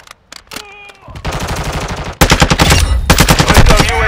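Video game machine gun fire in a street battle, with loud rapid bursts that build and intensify, rattling close and continuous over a few seconds.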